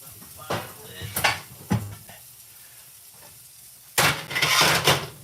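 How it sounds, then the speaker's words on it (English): Sausage browning on one side in a frying pan, with metal clinks and scrapes of utensil on pan over a low sizzle, several sharp knocks in bursts, close and fairly loud. "So you see how I cook this sausage? So brown it on one side."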